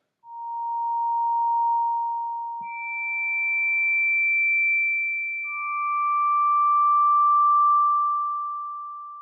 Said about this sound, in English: the filter resonance has turned the filter into a sine wave